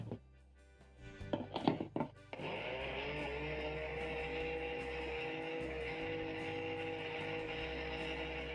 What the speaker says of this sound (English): cover your blender and blend everything until smooth